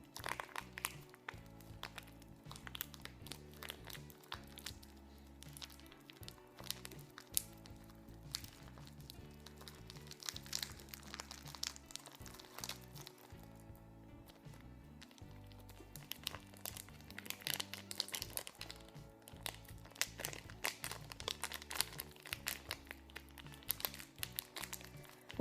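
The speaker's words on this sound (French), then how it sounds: "Après, vous pouvez poser sur le papier alu." Continuous crisp crinkling of aluminium foil while preparing a shisha bowl, close up and fairly quiet, rustling steadily throughout with no pauses.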